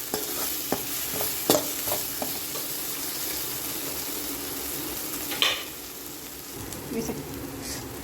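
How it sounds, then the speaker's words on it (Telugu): Ginger garlic paste frying in a pan for country chicken curry, with a steady soft sizzle throughout and occasional clinks and scrapes of a spoon stirring, fairly quiet and close. "ఇందులోకి అల్లం వెల్లుల్లి పేస్ట్ వేసుకొని పచ్చి వాసన అంతా వెళ్ళేదాకా బాగా కలుపుకోవాలి"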